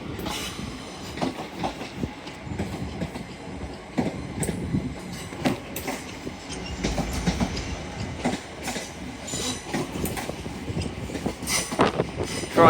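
A Class 800 passenger train, unit 800 203, pulls out of Carlisle station bound for Edinburgh Waverley. Wheels clatter rhythmically over rail joints with squeals and a rumbling engine as the train passes close by and gathers speed.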